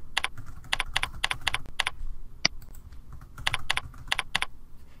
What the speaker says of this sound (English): Enter your username and password.